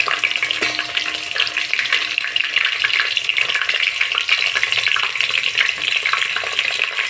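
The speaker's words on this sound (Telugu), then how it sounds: "ఆయిల్ వీటెక్కని ఆవాలు, జీలకర్ర, పచ్చిమిర్చి వేసుకుందాం." Mustard seeds, cumin and green chilies fry in hot oil, giving a dense, steady sizzle with crackling pops close up, heard alone without voices.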